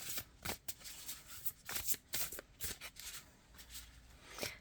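A deck of tarot cards is shuffled and cards are drawn, giving quick riffling bursts and crisp slaps of card stock. The sounds are close and fairly quiet, arrive in irregular clusters and are heard without speech.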